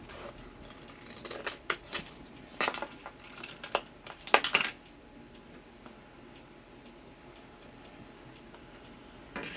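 Scissors snipping through material while cutting out individual name letters for a coop sign, a few scattered close, crisp clicks and short cuts in an otherwise quiet room.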